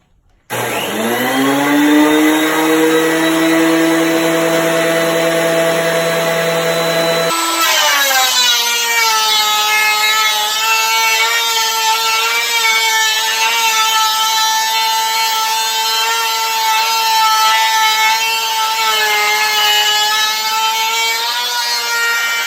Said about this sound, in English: So since this is oak, I'm gonna try only going down half a 32nd each time, and we'll see how it's doing. It's not the best planer,